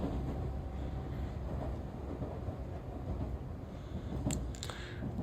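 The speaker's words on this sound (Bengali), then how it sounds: "লোকাল ট্রেন, খুবই ধীরে ধীরে চলতেছে ট্রেনটা" A slow-moving local train heard from inside the carriage, a continuous low rumble and rattle with a few faint metallic clicks near the end.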